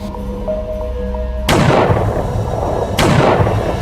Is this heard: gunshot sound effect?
yes